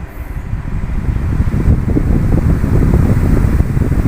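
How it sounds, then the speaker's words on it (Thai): An electric fan runs on power from a 12 V DC to 220 V AC inverter, producing a steady, fairly loud whooshing hum that builds slightly and holds, with no voices. "ก็มาเทสเปิดพัดลมนะครับ"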